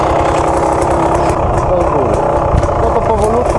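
A Beta 300 motorcycle engine idles with a steady mid-pitched rattle close by, while people talk over it and a child coaches an adult learning to ride.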